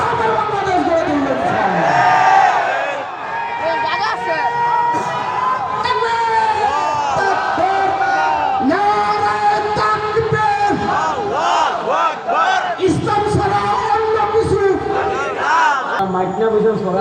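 Large rally crowd chanting slogans in loud unison, voices rising and falling in rhythmic shouted phrases with a few dips between calls, the mass of sound near and continuous throughout.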